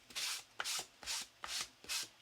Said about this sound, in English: use a sand block, just sanding the surface like this